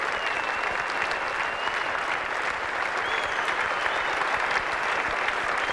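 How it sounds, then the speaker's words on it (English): Sustained applause from a cricket crowd at Adelaide Oval, a dense steady wash of clapping that carries on evenly throughout with no clear voices on top. "Give him a good round of applause, the local captain"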